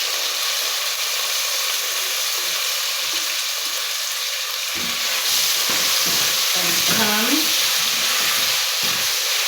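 Tomatoes tumble into a hot pan with carrots and butter beans, setting off a loud, steady sizzle and hiss that swells midway, with a few brief stirring scrapes near the end.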